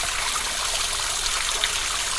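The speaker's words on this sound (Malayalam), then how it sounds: "ആ ചീപ്പിൽ നിന്ന് വെള്ളം ഒഴുകുന്ന കാഴ്ചയാണ് ഈ കാണുന്നത്" Water pouring out through a sluice gate on a canal bund near Nilambur, a steady, unbroken rushing wash with no voices.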